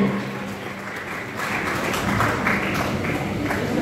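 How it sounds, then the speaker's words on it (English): A large audience at a school interhouse quiz competition claps continuously, the applause swelling slightly louder after the first second and holding steady. "Now come on, clap them."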